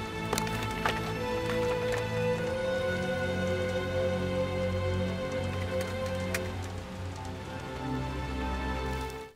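Steady, dense rainfall in a scene from the Korean action film The Man from Nowhere, a continuous hiss filling the whole stretch beneath sustained musical tones, with no talking.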